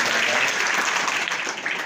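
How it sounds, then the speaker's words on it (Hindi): Crowd of people clapping hands together at an event in India, a dense, steady burst of applause filling the whole moment with no voices over it. "जोर से ताली मारो"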